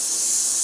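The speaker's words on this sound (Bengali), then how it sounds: "প্রেশারে একটু আলু সিদ্ধ বসিয়েছি, সেই সিটি করবে বলে প্রেশারে আওয়াজ হচ্ছে।" Steady high hiss of steam escaping a pressure cooker boiling potatoes, loud and continuous with no voices, building toward a whistle.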